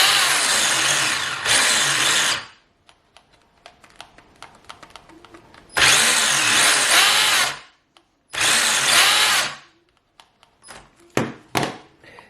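Electric motor of a Tamiya TT-02 radio-controlled car, a Toyota GR86 build, spinning up during an ESC test: three loud, buzzing bursts of a few seconds each, separated by near silence and faint clicks.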